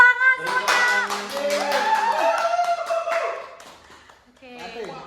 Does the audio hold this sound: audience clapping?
yes